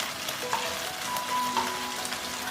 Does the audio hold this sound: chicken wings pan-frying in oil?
yes